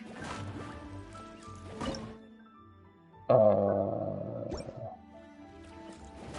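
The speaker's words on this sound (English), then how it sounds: "Pour pure water into the cooking pot." Water pours into a cooking pot in the Genshin Impact video game, a bright splashing fill that bursts in suddenly midway, loud and close over soft game music, then tails off after about a second and a half.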